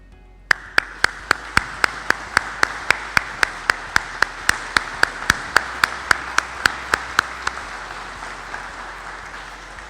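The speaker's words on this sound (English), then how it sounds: "give the round of applause to the men and women in your life that have gotten you to this point" Rhythmic unison clapping rings out at a military-style graduation ceremony, about twenty sharp, evenly spaced claps from a standing crowd, strong at first and easing slightly toward the end, with a low murmur underneath.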